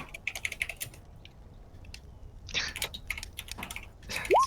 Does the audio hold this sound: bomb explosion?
no